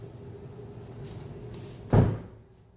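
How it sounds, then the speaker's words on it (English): After quiet background hum, a single solid thud of a door shutting in a garage workshop, close by, with a brief fading rattle. "I can't close that door."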